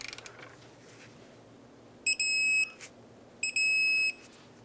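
A click-type torque wrench set to 120 foot-pounds on the brake caliper bracket bolts of a 2003-2007 Nissan Murano gives two clear electronic beeps, each holding for about half a second, over quiet garage background.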